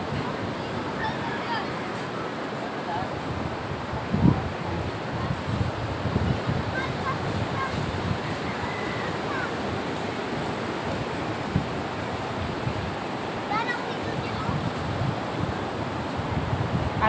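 Steady wind and surf roar across a beach where monsoon-driven sea has reached the houses and washed away the sand, a constant broadband rush with occasional gusts and buffeting on the microphone.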